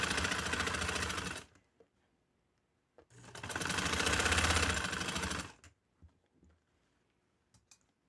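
A sewing machine stitching piping onto a lawn fabric neckline runs in two fast, even bursts with a pause between, followed by a few faint clicks and handling sounds.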